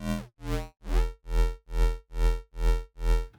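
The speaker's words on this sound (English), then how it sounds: "you see that metallic sound?" Serum synth square-wave patch through a resonant flanger filter, eight evenly spaced rhythmic notes with a buzzy, metallic timbre, loud and alone.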